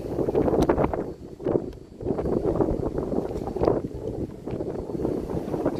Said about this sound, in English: It's fucking getting windy out here now.